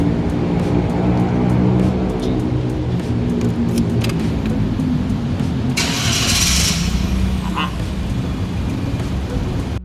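A 2019 Perodua Axia G Xtra runs with a steady, close engine hum, a short bright rushing burst midway through, and no talking.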